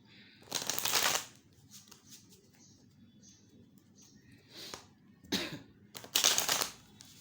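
A deck of tarot cards being shuffled close up, in a few separate bursts of quick riffling and flicking with quiet pauses between them.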